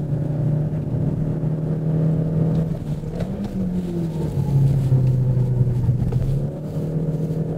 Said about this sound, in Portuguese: você escuta a roda interna meio que querendo patinar